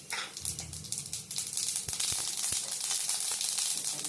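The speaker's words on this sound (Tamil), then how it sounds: "எண்ணெய் காஞ்சோன்னா கடுகு சீரகம் போட்டு பொரிங்க" Mustard seeds and cumin crackle and pop in hot oil in a pan, a steady close sizzle with scattered sharp spluttering bursts for a few seconds.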